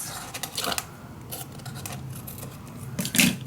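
Scissors cut through paper for a handmade mini album, making a run of close, crisp snips and rustles with a brief pause, then a louder cluster of cuts near the end.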